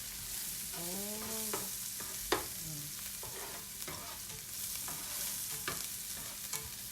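Onions sauté in a pan for fried rice with a soft, steady sizzle. Stirring scrapes and a sharp utensil knock come through, and a brief muffled voice is heard early on.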